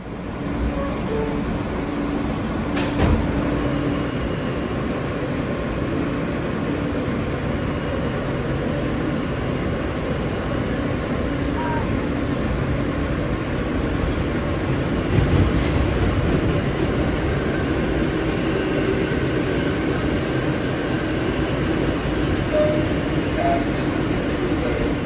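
A New York subway F shuttle train runs in a steady, loud rumble with a constant roar of wheels on track and a couple of sharper clanks, heard from inside a car without voices.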